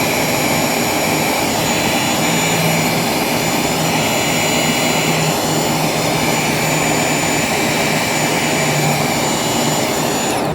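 Heat gun shrinking heat shrink tubing over a battery cable on a light aircraft, a steady, loud blowing roar that runs unbroken from start to end with no talk.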